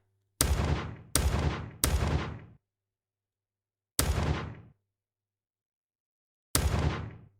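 Silenced gunshot effects built in Unity from ordinary gun shots: five separate dull, thudding shots, three in quick succession and then two spaced apart, each with a short decaying tail and silence between.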